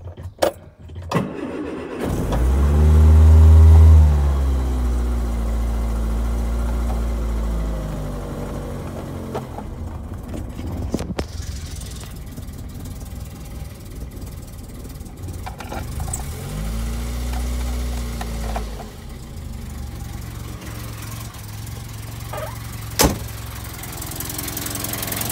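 An Austin Allegro with a British Leyland engine started from cold on a hot day, with a cranking starter and the engine catching into a loud rumble, then settling to a steady idle with a hesitant, uneven revving about midway through.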